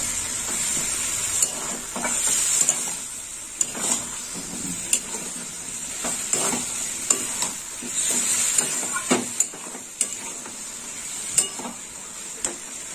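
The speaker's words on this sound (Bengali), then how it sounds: "একটু নেড়ে চেড়ে নেবো।" Gime greens frying in a pan as they are stirred, a steady sizzling hiss broken by repeated scraping stirs at an unhurried pace, close and moderately loud.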